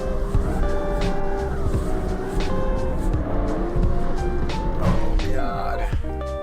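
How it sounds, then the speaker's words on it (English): Handbrake drift in the CarX Street racing game: a steady engine drone with tire noise shifts pitch as the car slides sideways, loud and continuous, while someone talks over it. "Even sideways, you know, hold the handbrake and just go straight sideways."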